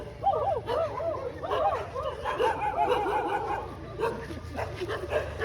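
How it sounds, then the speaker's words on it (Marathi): Several small and large trained dogs barking and yipping in quick bursts close by, some whimpering mixed in, with a little background noise. "हे छोटे कुत्रे आणि हे मोठे कुत्रे शिकलेले कुत्रे"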